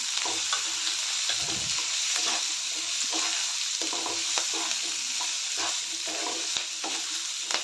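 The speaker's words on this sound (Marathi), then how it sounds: "शिमला मिरची पण यामध्ये चांगलं भाजून घ्यायचं आहे" Chopped capsicum and garlic roasting in a hot pan with oil, a continuous close sizzle broken by repeated scraping strokes of a spoon, steady and fairly loud throughout, no voices.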